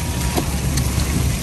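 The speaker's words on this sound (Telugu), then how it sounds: "వడగళ్ళ వాన పడుతుందండి" Hail and rain falling on a road outside a CVS drive-through, heard from inside a parked car as a steady, dense roar with scattered louder patters and a few sharper impacts.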